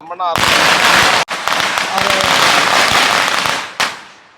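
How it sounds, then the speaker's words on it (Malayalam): A firecracker bursts loudly and close by, followed by a long crackling, sputtering spray that cuts off abruptly, with a second short pop near the end. "ഒരു പടക്കം പൊട്ടിയതാണ്"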